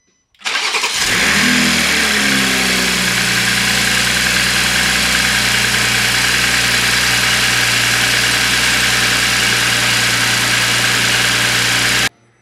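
A 2021 Toyota Supra turbo engine with an aftermarket intake cranks and fires up, then settles into a steady, loud idle with a deep, even drone that holds for the rest of the clip.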